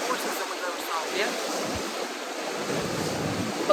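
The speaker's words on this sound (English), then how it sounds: "But the water's choppier than usual." Choppy river water slaps and washes around a cruise boat on the Amelia River at Fernandina Beach, Florida, a steady broadband rush with wind buffeting the microphone and faint voices in the background.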